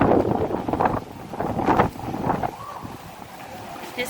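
Strong wind blows outdoors, buffeting the microphone in loud, rumbling gusts that ease and surge over a few seconds, with a voice briefly audible.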